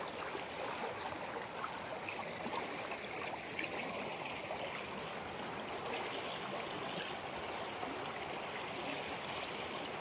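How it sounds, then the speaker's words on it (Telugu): Fast-flowing stream water rushes steadily and close, a dense, continuous wash with no voices over it. "ఎంత ఫాస్ట్ దబ్బుతున్నావో చూడండి నీళ్ళు"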